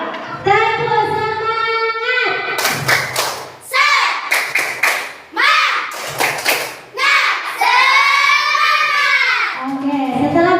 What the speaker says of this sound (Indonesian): ibu ingin mendengar tepuk semangatnya dulu.